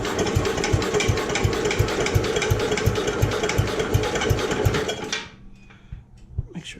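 A Kohler K181 small engine is cranked to start, giving a loud, close, rhythmic chugging beat for about five seconds before it cuts off, leaving faint knocks and quiet.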